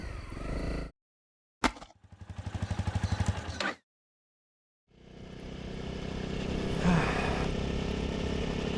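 A Honda CRF 250L dual sport motorcycle rides the Trans-Euro Trail in Romania. Its engine note drops out twice, then returns as a steady drone that holds loud to the end.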